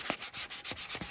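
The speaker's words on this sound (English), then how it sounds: "I'm going to just continue again to finish this light sanding" Wood for a recycled plant stand is given light hand sanding, with six or so quick rasping strokes in an uneven back-and-forth rhythm, close by and moderately loud with no voices.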